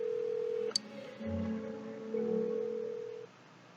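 In the video game Persona 4, a phone call plays out as a short run of dial tones with a click, then a steady electronic ringing tone that holds for a few seconds before cutting off, with no talk.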